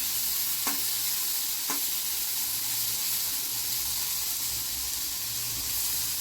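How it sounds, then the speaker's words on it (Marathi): Cluster beans (guar) fry in a pan over medium heat, a steady close hiss and sizzle running throughout with two brief stirring scrapes near the start. "गवार आपल्याला गोल्डन होईपर्यंत तळून घ्यायचं आहे. थोडीशी वाफवून घ्यायची, फ्राय करून घ्यायची."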